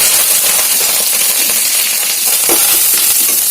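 Curry leaves hitting hot oil give a loud, steady hissing sizzle with faint crackles and a few soft stirring knocks, close and continuous throughout.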